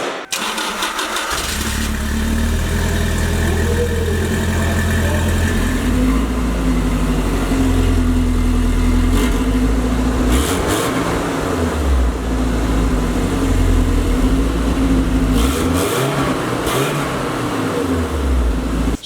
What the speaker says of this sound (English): it revs all the way up to redline now